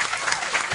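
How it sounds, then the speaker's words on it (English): Brief burst of audience applause for Andy Fiore at a comedy show, a dense wash of clapping filling the whole short moment. "Clap it up for Andy Fiore."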